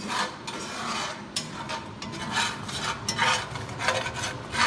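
A utensil scrapes and rubs steadily around a pan of homemade brown gravy, close and continuous with rhythmic strokes and no talking.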